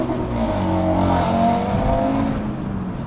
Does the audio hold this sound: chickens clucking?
no